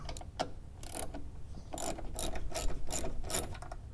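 Ratchet wrench backing out two 10 mm bolts in the cargo area of a Ford Bronco, a series of quick clicking bursts at close range with short pauses between them, and no voices.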